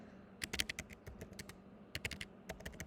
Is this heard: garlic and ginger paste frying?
no